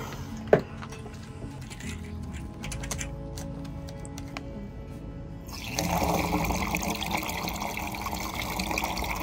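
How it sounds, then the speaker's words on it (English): Water runs into 5-gallon water bags aboard a sailboat, starting with scattered clicks and handling noises, then a steady louder rush of filling water that continues to the end. "we've been filling up our water with these 5-gallon water bags."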